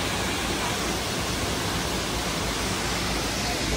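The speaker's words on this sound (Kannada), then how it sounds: "ಮಡಿಕೇರಿ ಹತ್ರ ಇರುವಂಥ ಅಬ್ಬಿಕೊಳ್ಳಿ ಫಾಲ್ಸ್ ಹತ್ರ ಬಂದಿದ್ದೀವಿ ನೋಡಿ. ಫಾಲ್ಸಲ್ಲಿ ನೀರು ತುಂಬಿ ಸುತ್ತಾಗಿದೆ." Abbey Falls near Madikeri running full of water, a constant broad roar of falling water that stays steady and loud throughout.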